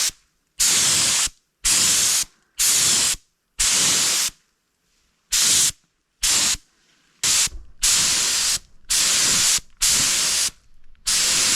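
An airbrush or spray gun lays a coat of intercoat mixed with forest green paint in a run of short, loud hissing bursts, each a second or so long, separated by brief silences, with no talking.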